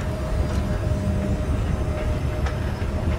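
Train rumble in the Dead Space 3 sci-fi survival horror game, a steady low rolling drone with faint rail clatter, continuous at moderate level with no talk over it.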